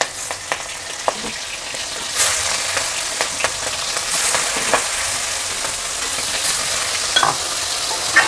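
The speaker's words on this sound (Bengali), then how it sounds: "ওই তেলেতেই আমি চিংড়ি মাছগুলো ভেজে নেব।" Prawns fry in hot oil in the same pan used for potatoes, a loud, close sizzle with repeated clinks and scrapes of a spatula stirring throughout.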